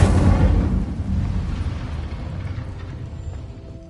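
Incendio fire spell in Hogwarts Legacy, a loud booming burst of flame at the start that rolls off into a fading rumble over several seconds.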